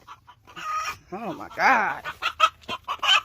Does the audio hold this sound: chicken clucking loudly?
yes